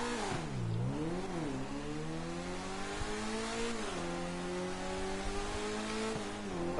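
A Lampadati Tropos rally car in a GTA video game accelerates hard from a standstill. Its engine revs climb and dip through rapid gear changes, then settle into a steady, loud rising drone with no talk.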